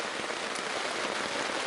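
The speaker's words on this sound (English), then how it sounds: "It's still raining like crazy" Heavy winter rain drums steadily on a tent in Algonquin Park, Canada, a dense continuous patter filling the space with no voices.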